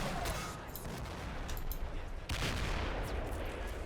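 Gunfire from the World War II tactical game Combat Mission: Battle for Normandy comes in noisy bursts of shots and rattling fire, with a heavier report midway.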